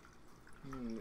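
Apple cider vinegar pouring into a measuring cup, a faint short gurgling trickle that swells into bubbly glugs.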